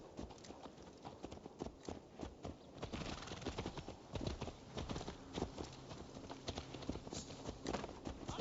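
Horse hooves clip-clopping in the video game Assassin's Creed Valhalla, a steady rapid run of close hoofbeats with a faint whinny-like tone, no voices over it.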